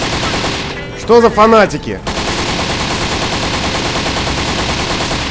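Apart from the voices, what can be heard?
gunfire in the video game Postal 3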